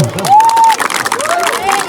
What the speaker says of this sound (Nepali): फर द्याट अध्यक्षको लागि ताली पड्काइदिनुहुन्छ